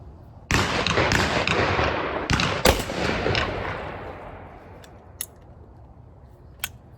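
An LC Smith Field Grade 16 gauge double-barrel shotgun fires outdoors: a sharp, loud blast, then a second report about two seconds later, each followed by a long echoing decay, with faint clicks afterward.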